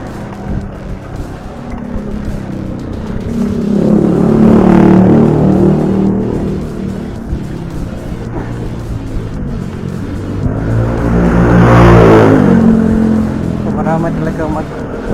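Vehicles speed and rev along a wide road, two loud passes swelling up around the listener and fading away, with wind noise and someone talking over the traffic.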